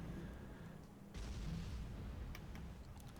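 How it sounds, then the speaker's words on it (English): Rumbling artillery barrages in the real-time strategy game Supreme Commander, a low continuous roar of distant shelling with a surge about a third of the way in and faint crackles layered over it. "Artillery barrages continue"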